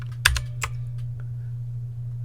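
Keys tap on an Aukey mechanical keyboard, a few sharp, separate clicks up close over a steady low electrical hum, without any talk.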